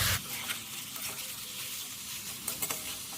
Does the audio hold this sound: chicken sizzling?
yes